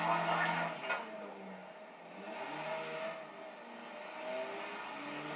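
A car in the Watch Dogs video game driving and revving, engine tones rising and falling at moderate distance, with a brief louder burst near the start.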